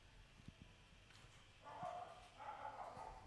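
A dog barks and yips faintly in the distance during a quiet pause in a French radio broadcast, a few short calls over low room noise with no one speaking.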